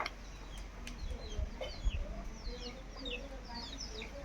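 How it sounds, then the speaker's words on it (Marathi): Hens cluck and call intermittently in a village in the Konkan countryside during the afternoon, moderately close, with other birds chirping faintly and a voice speaking in the background. "कोंबडी"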